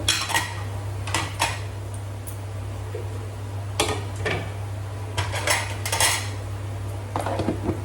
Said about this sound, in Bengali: এবার আমি হাতের কাজগুলি ঝটপট গুছিয়ে নেব।